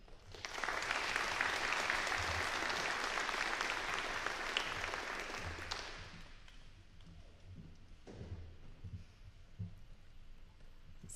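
A crowd applauds at a nursing pinning ceremony, a dense roomful of clapping that lasts about five seconds and then fades, with a few scattered claps and low murmurs after it.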